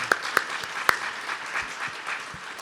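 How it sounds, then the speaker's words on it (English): An audience applauds panelists at a coronavirus science forum. The clapping is a moderate, steady patter of many hands, with a few sharp, loud claps standing out near the start. "if we could just give a round of applause for our panelists"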